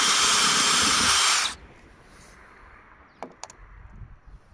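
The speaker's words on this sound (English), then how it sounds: "So then I need to drill the hole." A power drill bores a hole in a campervan roof, a loud, steady whirring hiss lasting over a second before cutting off abruptly, followed by quiet and a couple of light clicks.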